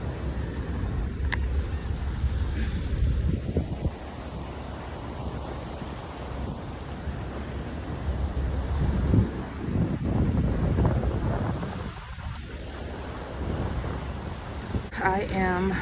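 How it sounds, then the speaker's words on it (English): Waves wash against a small, rocky, abandoned beach beside the ferry route as steady wind buffets the microphone, making a continuous loud rumbling roar with no clear individual breakers. "It's in like a little abandoned beach over here, and plenty of rocks."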